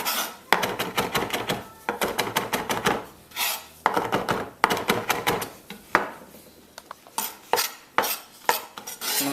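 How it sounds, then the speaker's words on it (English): A knife rapidly and finely chops fresh thyme leaves on a cutting board, the sharp rhythmic taps coming in quick bursts with brief pauses between them, close and loud. "I've got the thyme in here. Just going to I'm just going to chop that up very finely."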